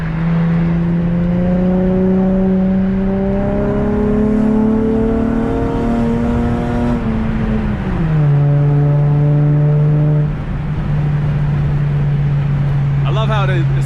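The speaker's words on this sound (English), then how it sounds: "Hopefully you guys can hear the exhaust" Acura TL exhaust holds a steady, deep engine drone that rises and settles as the revs change, close and loud throughout, with talking over parts of it.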